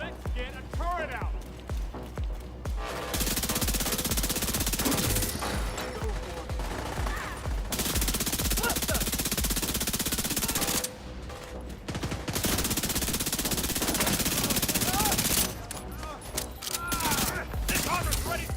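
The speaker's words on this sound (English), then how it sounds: "Let's get a turret out." A deployed turret in The Division 2 fires long sustained bursts of rapid gunfire, loud and dense, with short breaks between volleys and speech faintly underneath.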